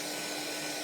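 Heat gun blowing hot air to dry paint on earrings, a steady, loud broadband whoosh that holds constant throughout, with no talk.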